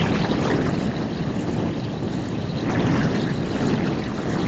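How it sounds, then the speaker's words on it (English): Steady, loud wind buffeting the microphone, a continuous rumbling roar with no breaks. "It's pretty windy out at the moment."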